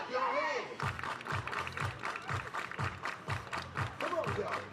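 A crowd claps their hands in a steady rhythmic beat at a school sports event, regular loud claps repeating about twice a second, with voices mixed in.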